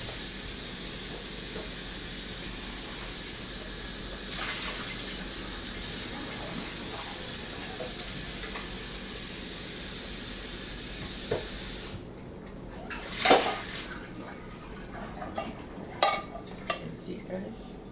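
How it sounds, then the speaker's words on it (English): Hot water hisses steadily over tinned ackee in a cooking pot for about twelve seconds, then stops, followed by scattered close clinks and knocks of the pot and utensils. "Wash it with some hot water"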